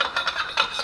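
A NITRON suspension cartridge slides down into the lower leg of a Harley-Davidson Low Rider ST motorcycle fork, giving a close, soft metallic rubbing and scraping in a few short, uneven strokes with no talk.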